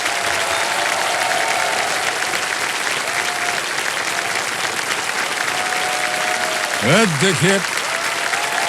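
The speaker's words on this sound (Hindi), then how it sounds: "और तालियां बजती रहे" Studio audience applause on the Kaun Banega Crorepati game show: dense, loud, sustained clapping filling the whole stretch, with someone speaking over it near the end.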